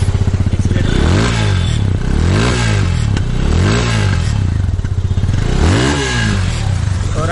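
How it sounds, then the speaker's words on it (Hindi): A Yamaha FZ 250 BS6 motorcycle engine runs close and loud, its throbbing idle rising and falling through several quick throttle revs, with no talk over it. "तो अब मैं आपको इस बाइक को एक बार स्टार्ट करके इसका साउंड सुना दूँ"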